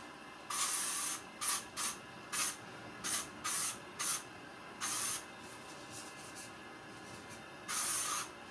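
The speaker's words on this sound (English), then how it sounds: "you're just going to spray it across your chest." Short bursts of sunscreen aerosol spray hiss, about nine quick pumps of varying length with brief pauses between, close and fairly loud against a quiet background.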